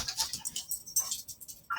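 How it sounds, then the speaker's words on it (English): A pet dog makes soft, short whimpers and yips indoors, several small bursts close to the microphone with no talk. "So yeah, my dog's down here now."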